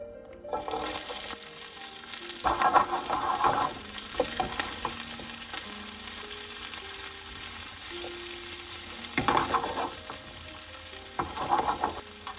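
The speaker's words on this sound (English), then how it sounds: "Now the onion start to caramelize." Onions and eggplant frying in virgin olive oil, a steady hiss of sizzling throughout with repeated bursts of stirring and scraping, close and fairly loud.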